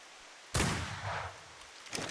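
A single sharp gunshot fired at a bat in a dark role-play video game, loud and close, with its blast decaying over about a second before a fainter second report.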